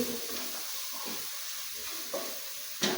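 Ingredients for prawn biryani sizzle steadily in a hot pan, a continuous frying hiss broken by a few soft scrapes and knocks as the mixture is stirred.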